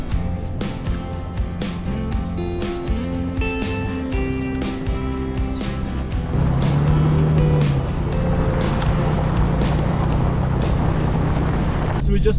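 A car driving slowly over a rough road under reconstruction produces a steady, loud engine and tyre rumble that grows heavier and noisier midway through, continuous and close from inside the vehicle.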